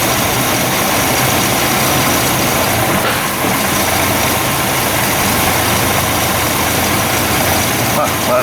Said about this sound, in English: Let me go pop it in four-wheel drive.